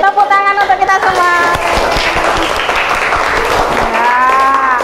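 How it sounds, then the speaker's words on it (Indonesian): A classroom audience breaks into a burst of broadband clapping that fills the middle of the moment, with a voice talking just before and just after. "Oke, tepuk tangan untuk kita semua."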